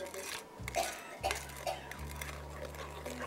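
A spoon scraping and clinking against a bowl while pumpkin brownie batter is stirred, a few soft knocks and scrapes close by, with people talking over it.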